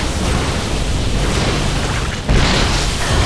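StarCraft II battle between stalkers and corruptors: a dense wash of booming weapon impacts and explosions, loud and continuous, with a sharper burst near the end.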